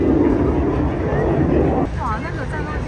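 A fighter jet roars past at the Avalon Airshow 2025 in Australia, a loud, sustained broadband rumble that shifts in tone midway, with people talking nearby throughout.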